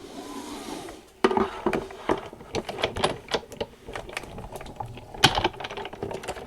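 A Lifestyle Crafts letterpress kit with paper and inked plate being run through, giving a series of close, sharp clicks and knocks in an irregular rhythm after a brief quiet start, with no voices.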